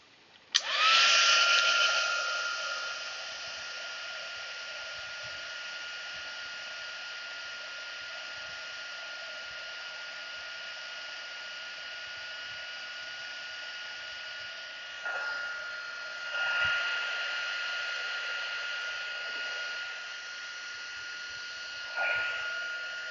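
A craft-room heat gun switches on with a sharp start and then whines steadily as it melts embossing powder, loud and close, its pitch and strength shifting briefly a few times as it moves.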